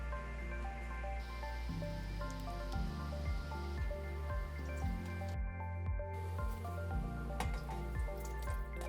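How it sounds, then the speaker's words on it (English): Water is poured to rinse the inner chamber of a Jeio Tech ST-G lab autoclave sterilizer, giving a soft, steady run of close dripping and squishy liquid sounds with a low bubbling undertone. "Pour the water to rinse the inner chamber."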